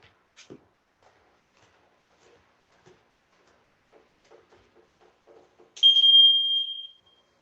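A timer set during a Brazilian jiu-jitsu session beeps once in a short, clear electronic tone near the end, after scattered quiet clicks and shuffling in a nearly silent room.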